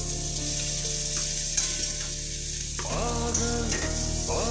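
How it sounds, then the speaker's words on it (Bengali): Nigella seeds sizzle in hot oil in a kadai for tempering, a loud, steady crackling fry with a few sharp pops and a clink of the pan partway through, no talking. "তেলে সামান্য কালো জিরে ফোড়ন দিয়ে দেবো।"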